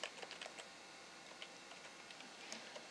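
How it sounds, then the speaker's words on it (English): Soft, quick keystrokes on a computer keyboard as a password is typed at a login screen, a faint, irregular patter of clicks that runs through the whole stretch without talk. "So I'm going to type that in."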